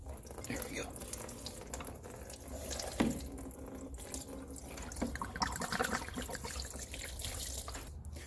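Oil and coolant draining from a Honda Shadow 1100 motorcycle engine, a steady close trickle and splatter of liquid running continuously into a pan, with low voices murmuring underneath.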